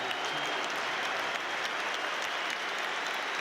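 A football stadium crowd at a Newcastle United v Tottenham Hotspur Premier League match applauds a player, a dense, sustained wash of clapping that holds evenly throughout with no clear voices on top.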